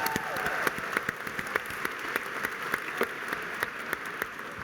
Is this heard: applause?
yes